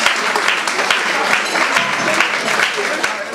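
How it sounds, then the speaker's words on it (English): Audience applause at a Nigerian school alumni gathering in the UK: steady, dense clapping from a crowd, moderately close, sustained throughout without a break. "Mrs. Omu, a round of applause."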